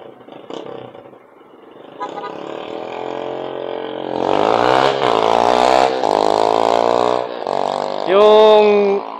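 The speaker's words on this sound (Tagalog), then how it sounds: "Pasabog na yung motor niya." Motorcycle engine revving hard on the Marilaque highway, a loud rising and falling whine with repeated throttle surges, close and sustained, ending in a sharp high-pitched rev.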